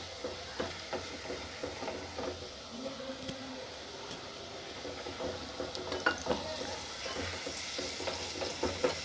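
Tomato puree frying with ginger-garlic paste in a pan while a spoon stirs it, giving a steady close sizzle broken by frequent scraping clicks and taps, with no voices.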